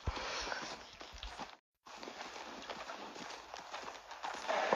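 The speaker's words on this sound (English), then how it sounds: "I'm still on the horse." Hooves clip-clop steadily from a horse ridden in the Red Dead Redemption game, close and fairly loud, with a brief silent gap partway through and no talking.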